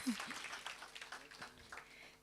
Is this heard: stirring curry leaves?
no